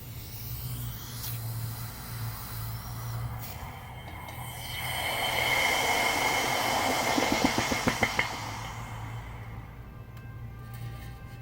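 Hot lost-foam aluminium castings of a Ducati logo hiss as they are quenched: a broad hiss swells in the middle, with a run of sharp crackling pops before it fades into quieter background hum.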